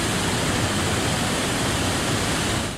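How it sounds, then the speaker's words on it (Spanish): A dense, steady roar of rushing debris flow, a river of rubble surging forward with broad, noisy turbulence like heavy water, loud and continuous throughout before easing slightly at the very end, with no voices. "Un río de escombros que avanza con un poder hipnotizante"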